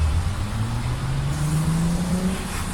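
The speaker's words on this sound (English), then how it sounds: "And then start it up, see how it runs." A car engine runs and revs upward at close range, a steady rumbling drone with rising pitch over a couple of seconds.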